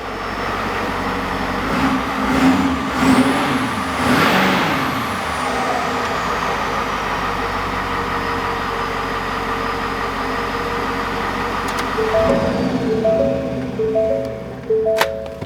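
A tuned 2020+ 6.7 Powerstroke diesel pickup rumbles at idle, then revs up sharply and falls back. The engine settles into a steady low drone, and a repeating in-cab chime starts near the end.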